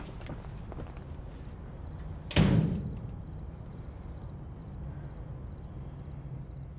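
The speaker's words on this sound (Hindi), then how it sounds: "दरवाजा बंद करो" A door is shut once with a single firm thud in the middle, then a short fading rumble over a quiet indoor room.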